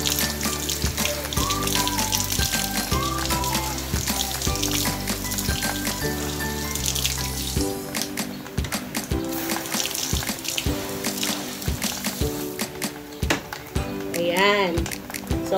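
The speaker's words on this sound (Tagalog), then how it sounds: "Water lang yung paglilinis ng ating filter, ha?" Water from a tap runs and splashes as a Samsung split-type air conditioner filter is rinsed, a steady close stream heard under talking.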